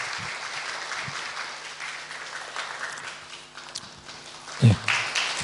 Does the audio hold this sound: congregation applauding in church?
yes